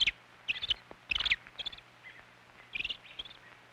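A robin gives a series of short, sharp, high calls in quick bursts with brief pauses between them, close and clear over a faint low hum.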